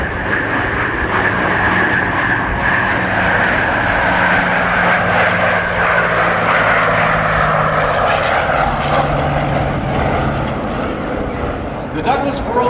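A Douglas DC-4 propeller airliner makes a pass at the Hollister airshow, its piston engines a loud, sustained droning roar with a steady tone that fades slightly near the end, while an announcer talks over it.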